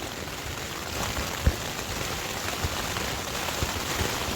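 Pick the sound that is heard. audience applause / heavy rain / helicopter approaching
heavy rain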